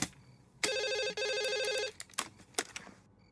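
A telephone rings indoors with two clear electronic trills separated by a short gap, followed by faint handling sounds and quiet clicks as it is picked up.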